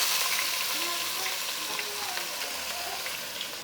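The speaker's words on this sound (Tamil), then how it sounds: "வெங்காயம் ஒரு கால் கிலோ அளவுக்கு வெங்காயம் வெட்டி வச்சுருக்கோம் இதை சேர்த்துக்கலாம்" Sliced onions dropped into hot oil with fennel seeds, frying for a chicken dish, giving a steady close-up sizzle and crackle throughout, with no voices over it.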